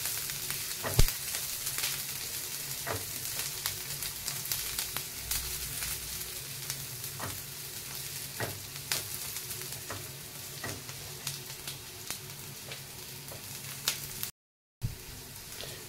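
Chopped onions fry in hot oil toward light golden, a soft continuous sizzle with sparse pops and crackles and occasional stirring, fairly quiet and alone, with a momentary dropout near the end.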